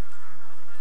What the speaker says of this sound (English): Uh-oh, here comes a bee, a wasp.